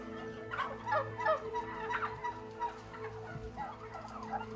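Thousands of farmed turkeys crowded in a shed, gobbling in repeated overlapping bursts over a steady low mechanical hum, close and moderately loud.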